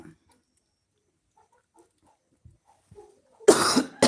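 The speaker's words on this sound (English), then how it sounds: "Sorry, I've got a little bit of cough." A person coughs once, loudly and close, then starts a second cough after a few seconds of near silence broken by faint small noises.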